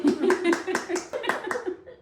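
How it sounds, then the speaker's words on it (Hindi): About eight close hand claps in an even rhythm, with a voice and light laughter underneath. "तालियां बजा रही हूँ।"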